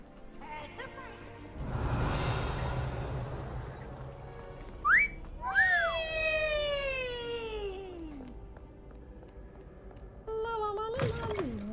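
A person whistles, and the tones slide in bright, rising and falling glides. It is heard alongside sounds from the video game Hogwarts Legacy, with short breaks between phrases.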